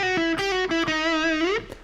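A distorted electric guitar plays a short lead phrase. It opens with a hammer-on and repeated picked notes on a sustained tone, then bends upward, loud and close, with no talking.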